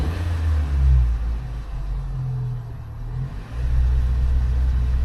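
A car engine idles roughly and misfires with an uneven low rumble, dipping and surging near the mic, and no voices are heard over it.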